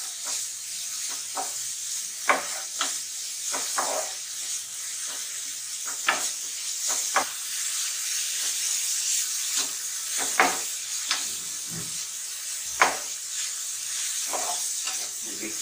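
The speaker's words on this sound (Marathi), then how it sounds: "आपण हे बीट 1 ते 2 मिनिटं परतून घेणार आहोत" Grated beetroot sautéing in a hot pan with potato, a steady close sizzle and hiss broken by frequent scraping stirs of a spatula, continuous throughout with no talking.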